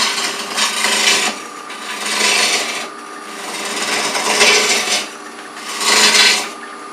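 A wooden mallet spins on a wood lathe while a turning tool scrapes and rasps against the wood in several swelling passes, each pass loud and sustained over the low hum of the machine.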